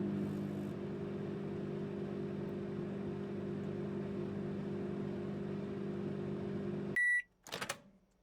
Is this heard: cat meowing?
no